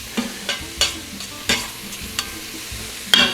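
Onions and peppers sauté inside an Instant Pot for Dominican salami rice, soft sizzling under a run of sharp spoon scrapes and knocks against the pot, about one every half second, close and fairly loud.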